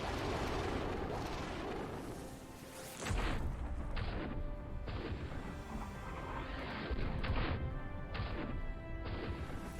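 Artillery in the World War II video game Hell To Pay, during the 1945 Kyushu assault on Japan, firing in heavy booming blasts and crashes that roll on continuously with repeated loud impacts.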